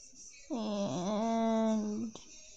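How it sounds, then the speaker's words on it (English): A savage dog in the Fallout Shelter video game lets out one drawn-out, wavering howl or whine that lasts about a second and a half, then stops abruptly. "she's found a savage dog"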